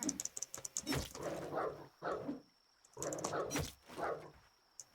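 A dog in the Dysmantle survival game barks and whimpers in several sharp close bursts separated by short pauses, fairly loud against a quiet background.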